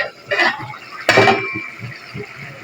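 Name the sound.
lid opened on cooking pot of tinda curry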